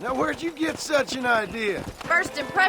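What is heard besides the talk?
No everyday noises stand out.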